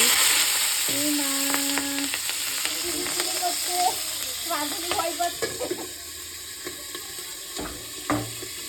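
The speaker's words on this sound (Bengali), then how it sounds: "এখন রান্না হবে পেঁয়াজ কলি ভাজা" Spring onion stalks fry in a home kitchen pan with a steady sizzle, broken by clinks and stirring clatter while people talk nearby.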